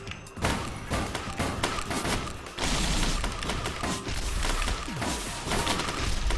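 A dense barrage of missiles firing and exploding in the video game Risk of Rain, rapid overlapping thumps and bursts at close range throughout, with a brief voice.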